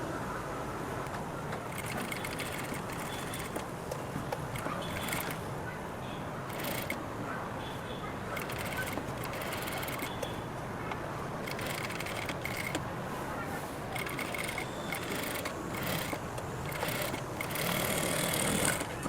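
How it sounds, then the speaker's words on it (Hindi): Sewing machine running steadily while stitching the neckline of a blouse lining with attached cups, a continuous close mechanical whir with no pauses. "अब हम अस्तर को इस तरह रखकर गले की सिलाई लगा लेंगे।"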